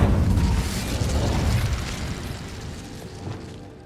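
An Incendio fire spell cast in Hogwarts Legacy bursts with a loud whooshing blast that flares and then crackles away over a few seconds, fading steadily with no talk.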